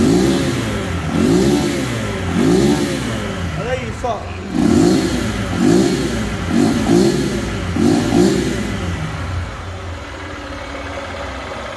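A small motorcycle engine with original carburettor and exhaust revs in repeated bursts, rising and falling several times at close range, with someone talking briefly over it.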